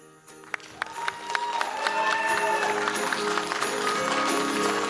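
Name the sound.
audience applause after a dance performance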